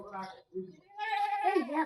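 A voice imitates a goat's bleat, a short wavering cry after brief talk.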